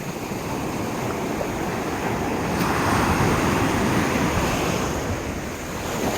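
Ocean surf rolls onto a beach in a steady, close roar of breaking waves with wind buffeting the microphone, swelling slightly midway, no voices present.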